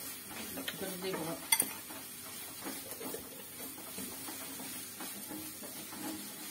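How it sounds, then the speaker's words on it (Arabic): Vegetables sautéing in a pot for a pasta dish with tuna, a soft steady sizzle under scraping and clinking as a spoon stirs against the metal, with one sharper knock partway through. "وغادي نخلي كلشي يتشحر مزيان. دابا تشحرت لينا الخضرة،"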